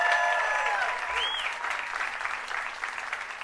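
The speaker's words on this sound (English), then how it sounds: "How about a big round of applause for that?" Outdoor crowd applauding at a Hollywood Walk of Fame star ceremony for Carrie Underwood, a broad wash of clapping and some cheering, with a brief whistle, tapering slightly toward the end.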